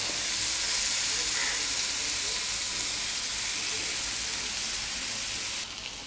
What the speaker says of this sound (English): It should fry golden brown, nice and crispy.